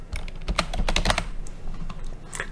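Quick, uneven keystrokes on a computer keyboard as a folder name is typed into a cloud storage app, close and fairly quiet with no talking.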